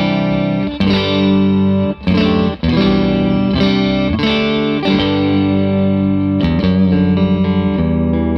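Electric guitar played through a Fuzzrocious Feed Me pedal on a clean amp tone: bright, sparkling chords ring out and sustain, with a few brief breaks between strums across a loud, full passage.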